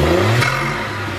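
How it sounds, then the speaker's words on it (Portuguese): A VW Polo TSI with Stage 2 tuning revs up close by, a short rising engine roar with turbo intake whoosh that then eases off. "pra gente escutar o ronquinho aqui do arzinho sendo puxado pela turbina"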